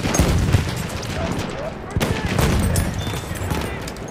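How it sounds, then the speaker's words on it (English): Battlefield 1 gameplay combat with a grenade blast and gunfire: dense bursts of rapid shots crackle throughout, with a heavier blast hitting around the midpoint, while faint voices sit underneath. "Grenade out, my Grenade out, watch it!"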